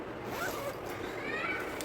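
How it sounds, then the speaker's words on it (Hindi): A zipper is drawn shut on a maternity hospital bag with two close, scratchy zips, one after the other, up close and fairly clear. "अभी तो मैंने इसमें एक ज़िप बंद किया है नीचे से"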